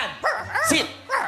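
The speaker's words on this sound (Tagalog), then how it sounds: "Oh, tumahol ang aso. Malakas ang tahol." A dog gives a few loud, close barks and yips in quick succession on a studio stage.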